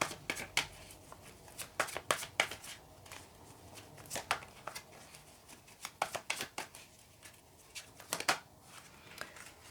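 Tarot cards are shuffled by hand in a series of quick, crisp riffling bursts and flicks, close and fairly loud, separated by short pauses, with no talking.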